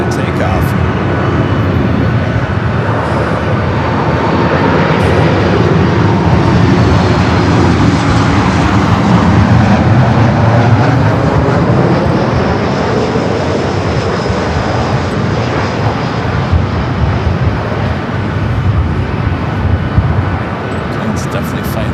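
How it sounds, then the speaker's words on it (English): An American Airlines Boeing 787 Dreamliner taxis toward a north-side takeoff at LAX in gusty wind. A loud, continuous jet-engine roar and rumble swells and holds steady, with a voice talking over it. "we've got another American Dreamliner heading up for a north side takeoff"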